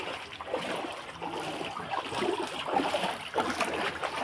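Splashing and sloshing of feet wading through dirty ankle-deep floodwater on a flooded street, a steady close watery churn with no talking.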